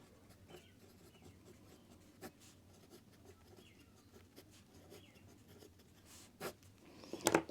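A math formula is written out by hand on paper, faint and close, with soft scratchy pen strokes and short pauses, ending in a few quicker scribbles, with no one speaking.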